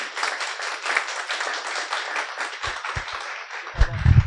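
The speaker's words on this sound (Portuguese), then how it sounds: "Vamos aplaudir" A small audience at a spiritist philosophy café event claps together in a continuous, moderately close round of applause, with a few thumps near the end.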